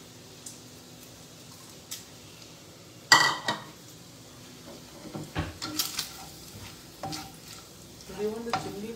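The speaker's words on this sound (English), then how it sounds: "And the egg starts to cook." An egg cooking in a pan for a bacon dosa: a low, steady sizzle runs throughout, broken by a sharp clatter of utensils, then scattered scrapes and clinks against the pan.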